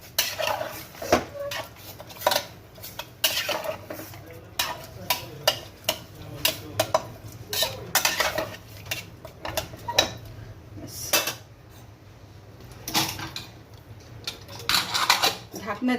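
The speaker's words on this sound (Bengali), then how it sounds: "নেড়ে নিচ্ছি।" Mutton curry with turmeric and Kashmiri chili powder being stirred in a cooking pot, with repeated sharp metal spoon clanks and scrapes against the pot in an irregular rhythm, close and loud.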